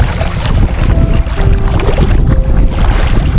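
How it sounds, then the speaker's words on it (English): Strong wind at Island Lake in Lost Creek, Nebraska, roars loudly and steadily across the microphone in heavy, buffeting gusts, with no voices. "that is kind of a fun wind"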